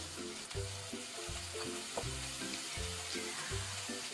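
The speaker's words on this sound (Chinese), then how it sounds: "把调料炸香以后" Seasonings fry in hot oil in a wok while being stirred, a close, steady sizzle broken by repeated low scraping strokes roughly every half second.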